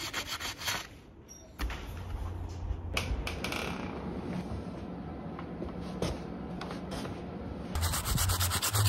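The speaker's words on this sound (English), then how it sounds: "Lots of sanding." A plastic dinosaur model of Stegouros with filled air bubbles is sanded by hand, giving steady close rubbing and scratching strokes that run nearly continuously with a few brief pauses.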